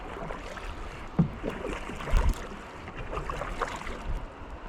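Steady broadband rush of river water pouring over an old dam on the Tambre near Oroso, heard from a kayak at a distance, with occasional louder thumps and paddle splashes close by.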